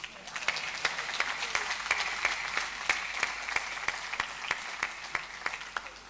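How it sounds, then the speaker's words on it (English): An audience at a university convocation ceremony for postgraduate degrees applauds, a steady crowd clapping with a few sharper individual claps standing out above the wash. "Please stand up and let them clap for you again."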